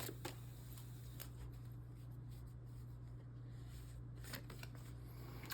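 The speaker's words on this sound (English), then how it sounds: "I'm going to pull some of these shadow cards out." Tarot shadow cards being pulled and shuffled from a deck, soft close-up papery slides and light taps over a steady low hum, quiet and without talking.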